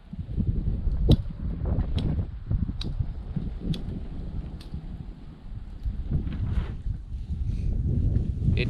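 Outdoor wind gusts buffet the microphone with continuous low rumbling noise while a fire starter is lit, and several sharp clicks of a lighter are heard at roughly one-second intervals.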